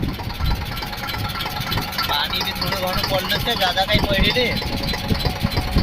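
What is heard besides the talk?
tractor engine running while plowing a field with a cultivator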